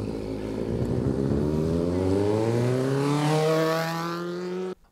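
Motorcycles ride at an outdoor community event, their engines revving and rising in pitch as one passes close by, loud and steady, then cutting off abruptly.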